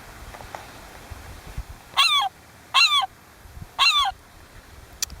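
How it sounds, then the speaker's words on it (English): Herring gull calls played from a Birdsong Identiflyer handheld birdsong device: three separate loud, shrill, laughing call bursts spaced about a second apart, over quiet outdoor background. "Let's do the herring gull."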